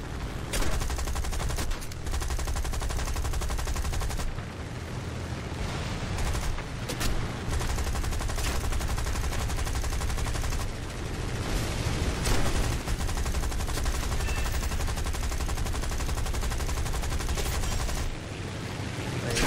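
Continuous rapid gunfire rattles almost without pause in the tank video game War Thunder, dense bursts and booms layered together, loud and sustained across the whole stretch.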